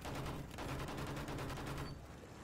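Rapid bursts of gunfire from a World War I era weapon in a Battlefield 1 match, dense and loud, with volleys stacking into a continuous barrage that cuts off sharply near the end.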